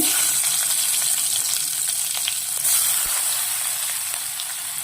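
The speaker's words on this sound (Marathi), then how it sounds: "तर आता तेल चांगलं तापलेलं आहे. त्यात हिंग, मिरची," Asafoetida and green chili sizzling in hot oil for a drumstick-leaf vegetable dish, a steady loud hiss with no pauses and a few faint clicks.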